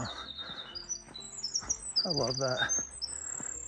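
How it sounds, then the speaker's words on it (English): Birds chirp and sing in a forest along the Mount Rogers trail in Virginia, with bright high tweets and trills layered over one another, moderately near, while a person speaks briefly. "being serenaded by the birds"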